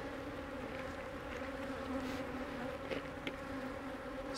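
Honey bees buzzing at an opened beehive during a swarm cell check, a steady dense hum filling the whole clip, close and continuous, with no voices.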